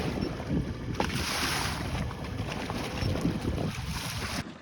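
A Haswing Cayman B 80 lb electric trolling motor runs on a boat at sea, its low steady hum mixed with loud wind buffeting and water wash before cutting off abruptly at the end.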